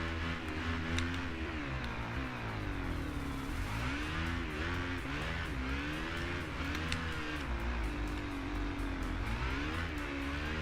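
Supermoto motorcycles race in a video game, engines revving and whining continuously with rising and falling pitch, loud and close throughout with no pauses.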